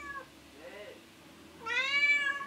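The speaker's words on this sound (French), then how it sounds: "C'est pour ça que tu miaules?" A cat meows close by, a short call followed by a longer, louder drawn-out meow near the end.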